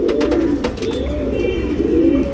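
A three-year-old male tournament racing pigeon coos close by, giving soft, low, rolling throaty coos in a steady rhythm, with light background noise.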